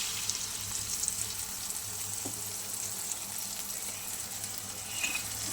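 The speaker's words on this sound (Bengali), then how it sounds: "চলো জল দিয়ে দিই" Water goes into a pan of curry with fried fish, a faint steady hiss and bubbling rush with light clinks, heard at low level with no talk.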